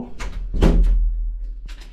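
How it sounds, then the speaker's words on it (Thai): A hotel room door in a Taiwanese quarantine hotel is pushed shut, giving a heavy thud with some rattle amid low room noise, with brief soft handling sounds around it. "เอาเข้ามาแล้วปิดประตู"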